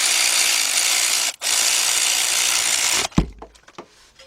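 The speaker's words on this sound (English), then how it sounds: "Tighten up all the bolts." A 14 mm deep socket on a big ratchet tightens bolts during a Lexus LS460 starter replacement: a loud, continuous buzzing whir close by, a brief pause, then a final burst and a few clunks as it stops.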